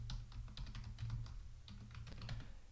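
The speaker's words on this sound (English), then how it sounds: "And then the password, I'm going to go ahead and type that in for that user." Typing on a computer keyboard to enter a password, a quick, quiet run of soft key clicks in an irregular rhythm, close by with no talk.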